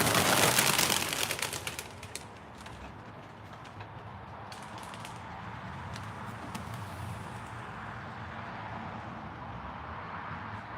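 Pigeons in a hobby loft give a steady, soft cooing and rustle that fills the space continuously, with a louder burst of clatter at the start and no voices.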